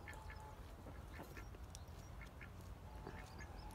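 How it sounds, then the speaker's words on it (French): A pair of Saxony ducks kept with food and water makes short, soft quacks scattered over steady background noise, heard at a moderate distance with no talk. "Voilà le couple de canards de Saxe."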